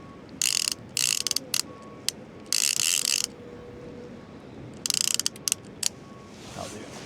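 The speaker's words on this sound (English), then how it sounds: "Alright, I'll put that on the ratchet." A fishing reel's ratchet on a UK sea fishing trip for codling gives several quick bursts of sharp clicking separated by pauses, over low wind and water noise.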